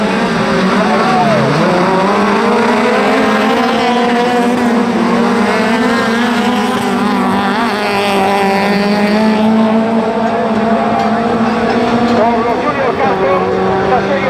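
Autocross race cars idle and rev together on the starting grid of a national autocross event in Carballo, a loud continuous engine drone with rising and falling pitch throughout, one car's note swelling near the end.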